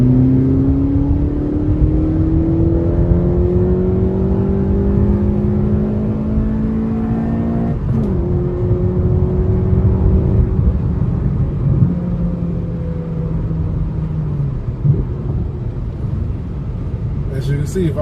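A Honda Civic drives hard at an autocross with a steady, loud engine drone whose pitch climbs and falls as it accelerates and shifts, and a person talks over it.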